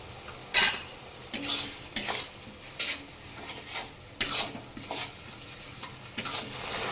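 Coriander and cumin paste stirred into frying tomato in a pan, with a soft sizzle beneath repeated scraping strokes of a spoon against the pan at an uneven rhythm, close and moderately quiet.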